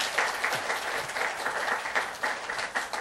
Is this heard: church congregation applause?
yes